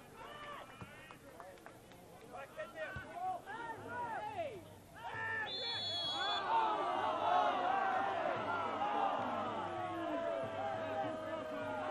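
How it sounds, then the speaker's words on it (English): A local football crowd at a Charlotte Independence versus Indy Eleven match swells into loud, displeased jeering and whistling after a referee's call, building over several seconds while a commentator talks over it. "Local crowd not happy with that whatsoever."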